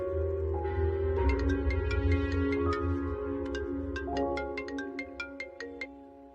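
A telephone ringtone plays a repeating electronic melody of bright tonal notes for an incoming call, fairly quiet and clear with no talking.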